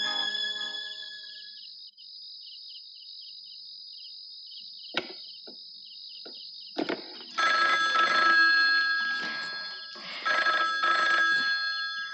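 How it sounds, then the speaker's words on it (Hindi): A telephone rings in a quiet indoor night scene of a Hindi film, a thin steady ring at first, then louder rattling ring bursts that repeat toward the end. "किसका फोन है?"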